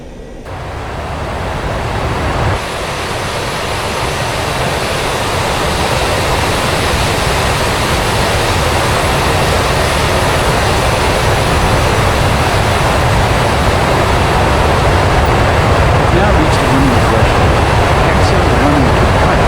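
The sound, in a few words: jet aircraft taxiing in DCS video game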